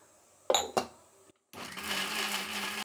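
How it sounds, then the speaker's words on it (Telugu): A mixer grinder whirs as it grinds red chutney with a little water for akki rotti: two short clunky bursts, a brief pause, then a loud continuous motor whine close by. "ఇప్పుడు చట్నీ మిక్సీ పట్టేద్దాము."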